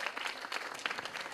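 An audience at a school children's event applauding, a dense burst of many hands clapping at a moderate distance, steady for the whole brief moment.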